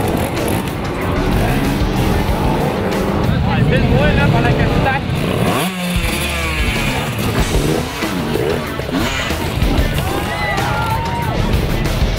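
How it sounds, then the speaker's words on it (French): Small 50cc shaft-drive Pee-Wee class motorcycles ride at an EnduroCross event, their engines revving and whining with rising and falling pitch over a noisy crowd and background commotion. "on commence avec une catégorie, disons, dite Pee-Wees, des petites motos à drive shaft 50cc"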